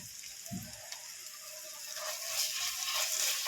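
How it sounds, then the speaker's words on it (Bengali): Onions frying lightly in mustard oil with ginger garlic paste, a steady soft sizzle with faint scraping, growing a little louder toward the end. "পেঁয়াজটাকে একটু হালকা করে ভেজে নেব আদা রসুনের পেস্ট দিয়ে দেব"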